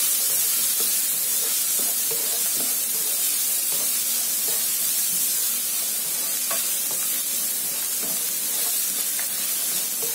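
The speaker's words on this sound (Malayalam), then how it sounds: "സവാള ഒന്ന് നല്ലവണ്ണം ബ്രൗൺ നിറമാവുന്നവരെ നമുക്ക് വഴറ്റിയെടുക്കണം." Finely chopped onions sauté in hot oil in a pan for an egg masala curry, a steady, loud sizzle and hiss that runs unbroken throughout, with faint stirring scrapes and no talking.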